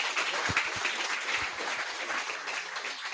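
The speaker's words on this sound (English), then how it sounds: "One more round of applause." A crowd applauds steadily, a dense wash of clapping hands that carries on without pause from start to finish.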